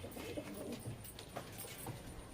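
Pigeons in a loft of Nazra Kaldum fancy pigeons, cooing softly in low repeated murmurs at close range against a steady background hum, with no talk over them.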